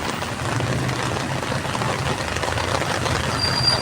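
Steady rain hisses continuously, an even wash of noise with no pauses and no voices.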